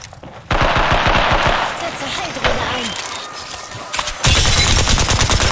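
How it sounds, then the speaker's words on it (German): Rapid automatic gunfire from Apex Legends during a ranked match, loud and close, with sustained bursts and sharp shots that break off and resume, ending in a heavy continuous volley; a voice calls out briefly between shots. "Werde beschossen."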